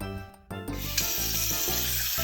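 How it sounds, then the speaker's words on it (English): Tap water pours into a cooking pot in a home kitchen, a steady rushing hiss that starts after a brief pause and runs on loud and close to the end, with no talking. "Fill the pot up with water."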